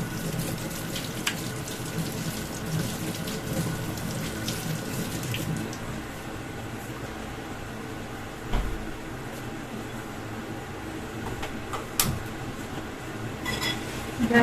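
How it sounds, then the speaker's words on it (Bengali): A kitchen tap runs steadily as hands are washed beneath it. The water flows in a continuous close hiss with occasional small knocks and splashes, and the flow eases partway through. "হাতটা ধুয়ে নিই।"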